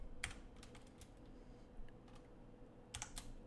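Keys on a computer keyboard are tapped in short, quiet bursts of clicks, with a pause in the middle and a final cluster near the end, over a faint room hum.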